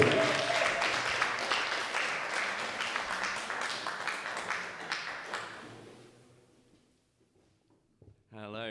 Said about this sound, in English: A round of applause for James Picking.